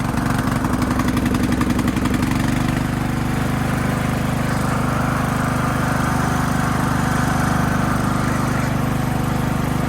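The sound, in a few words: lawn tractor engine running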